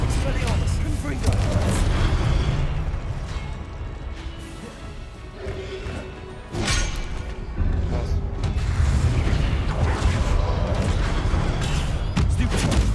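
A Confringo explosive spell blasts in Hogwarts Legacy amid loud, dense combat noise, with crashing bursts and rumbling impacts in a continuous busy mix; a voice talks over the fight.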